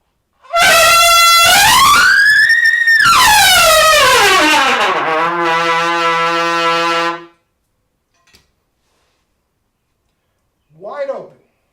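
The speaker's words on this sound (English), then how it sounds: "Let me honk." A loud, sustained horn blast that bends in pitch and then settles, followed by silence and a short fainter honk near the end.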